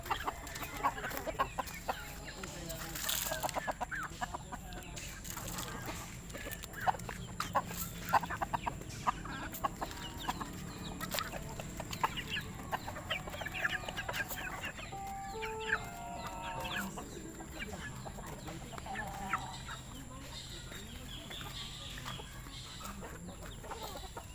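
Chickens clucking while they eat, a cluster of soft and scattered clucks and calls over a continuous farmyard background, fairly faint.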